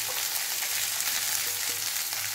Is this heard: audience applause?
no